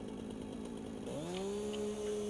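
In the game Satisfactory, a chainsaw cuts into a big tree, a steady buzzing drone that rises sharply in pitch midway and then holds a high, sustained whine, close and continuous.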